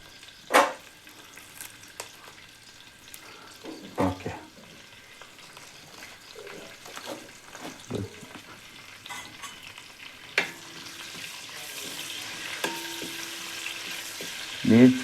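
Chicken pieces go into a pan of hot oil with curry leaves and sizzle, joined by scattered clinks and stirring scrapes, a gentle frying hiss that builds toward the end, close and fairly quiet.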